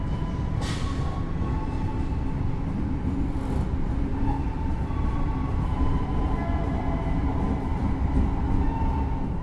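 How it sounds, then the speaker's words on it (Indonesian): The Jaka Tingkir night passenger train pulls out of Purwosari station in Solo: a continuous, heavy rolling rumble with rattling carriages and faint wheel clicks, heard close up from on board. "kereta api Jakatingkir diberangkatkan dari stasiun Purwosari"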